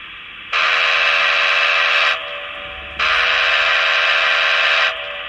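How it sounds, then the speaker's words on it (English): Two long, steady steam-whistle blasts from a Broadway Limited model train, loud and close, separated by a short pause. "It actually sounds like a steam engine whistle."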